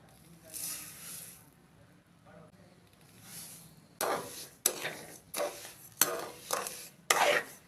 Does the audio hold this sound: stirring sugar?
yes